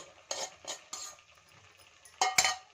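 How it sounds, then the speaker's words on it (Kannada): Ground moong dal paste being stirred and fried in a pan for kachori filling, with a few scraping spoon strokes against the pan and a faint sizzle underneath, close and fairly quiet. "ಹೆಸರು ಬೇಳೆನ ರುಬ್ಕೊಂಡು ಬಂದಿರೋದನ್ನು ಸೇರಿಸ್ಕೊತೀನಿ"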